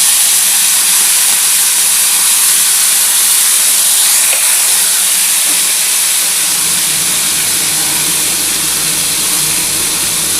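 Yardlong beans and potatoes drop into hot oil, giving a loud, steady, broadband sizzle and hiss that holds without a break from start to finish, with no talking over it.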